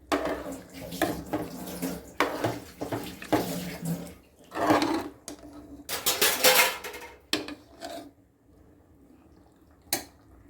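Water is poured into a pot of chicken curry in a home kitchen, with splashing bursts mixed with clattering pots and utensils, then a quieter pause and one last clink.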